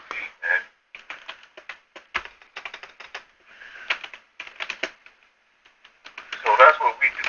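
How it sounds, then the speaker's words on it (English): Clicky keystrokes tapped in uneven bursts, close and fairly loud, with short pauses between runs of typing and a heavier flurry near the end. "Sorry, you got me typing."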